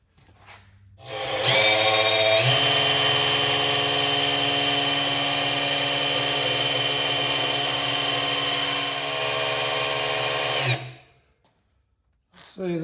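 A power drill runs steadily for about nine seconds, turning the oil pump to prime oil pressure on a GMC Vortec engine, loud and close with a sustained whine that shifts pitch once early on, then winds down.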